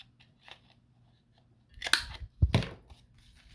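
Scissors trim the corners of decorative paper, giving two or three short crisp snips close by against a quiet background with a few faint rustles before them.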